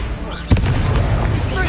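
Incendio fire spell cast during Hogwarts Legacy combat, a single sharp fiery burst standing out from steady battle noise, with a spell name shouted.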